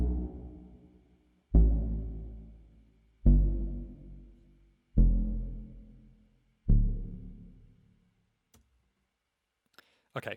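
Rough monosynth preset bass in Ableton Live with reverb: five loud, deep notes struck at steady intervals, each decaying into a long reverb tail, followed by near silence and a few faint clicks.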